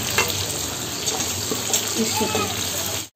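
Sliced onions frying lightly in a pan for restaurant-style chilli chicken, a steady close hiss and sizzle with faint crackles, fairly loud, cutting off abruptly at the end.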